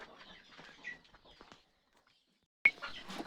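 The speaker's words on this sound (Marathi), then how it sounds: "इथे एक खुडूक कोंबडी बसलेली आहे" A broody hen sitting on eggs gives a few soft, low clucks, then goes briefly quiet before one sharper, louder call; faint and close in a quiet setting.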